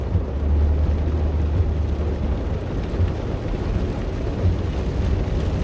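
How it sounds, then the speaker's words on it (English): A constant, loud wash of heavy rain drums on and around a parked car, with a deep low rumble beneath that may be thunder; no one speaks. "Yeah, that's too much rain, girl."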